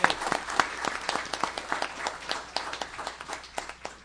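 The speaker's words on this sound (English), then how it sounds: "I just want to give you a nice round of applause" A modest group claps at a city gathering honouring young volunteers, with distinct individual claps rising and falling in an uneven patter that thins out toward the end.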